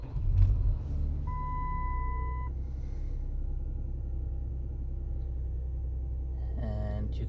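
A Nissan Patrol engine idles with a low, steady rumble after the ignition is turned on, accompanied by brief electronic beeps and tones, and a voice speaking over it.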